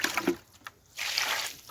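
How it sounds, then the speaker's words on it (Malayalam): Water is poured, a soft trickle and splash rising and falling in short bursts, fairly close but quiet, with a brief pause between pours. "വെള്ളം ഒഴിക്കും."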